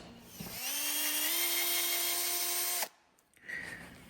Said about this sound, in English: So I'm going to grab a bit and drill those out.